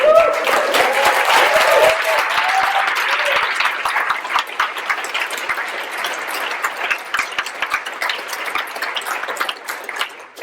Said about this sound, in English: That applause is thank you for letting us be in space